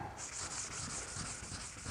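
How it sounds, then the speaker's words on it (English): Continuous, quiet block sanding of a BMW E46 body panel, a rough scraping rub repeating in even diagonal strokes, close by and with no talking. "I want to block sand it"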